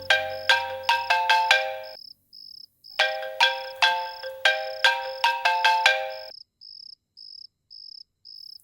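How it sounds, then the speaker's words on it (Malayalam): A mobile phone ringtone plays indoors in a domestic drama scene, a bright repeating electronic melody in two bursts with short chirping tones between, clear and close with no talking over it. "ഫോൺ അടിക്കുന്നുണ്ടേ."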